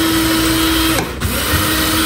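A kitchen mixer grinder grinding dry spices runs steadily with a high motor whine, pausing briefly in the middle before the grinding hum resumes.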